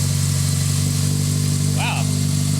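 Freshly built 500 whp car engine running steadily just after its first start, a loud, constant idle drone with strong low harmonics and no pauses, while a brief voice cuts in over it.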